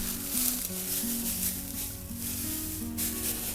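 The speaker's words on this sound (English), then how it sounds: "Probably water these again, get this mulch wet." Water sprays steadily onto straw mulch in a garden, giving a continuous soft hissing wash. Faint tonal hum sits underneath, and no one speaks.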